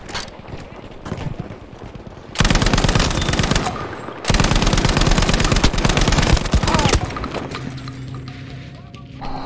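Rapid automatic gunfire with recoil in Battlefield 5, loud dense bursts from about 2.5 to 7 seconds with a short break, quieter shots and game noise before and after.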